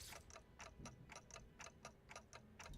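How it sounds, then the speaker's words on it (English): Steady, evenly spaced clock ticking from the video game Limbus Company, a crisp tick sounding roughly every quarter second, continuing alone and fairly faint without any talk over it. "All I can hear is the clock ticking."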